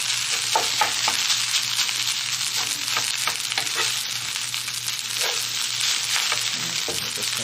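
Garlic fried rice with Spam sizzles loudly and steadily in a hot pan, a constant crackling hiss with occasional pops and light scraping, close up.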